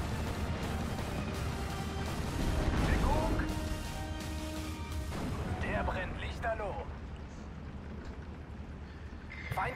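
Anti-tank gun fire rumbles in a Steel Division: Normandy '44 battle, heavy booms and bursts in the mix with a voice talking over the gameplay.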